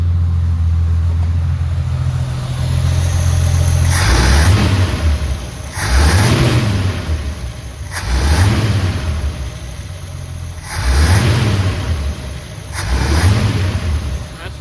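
A Jeep engine idles at the start, then revs hard to full throttle five times in regular bursts close to the microphone, each rise and fall clearly separated.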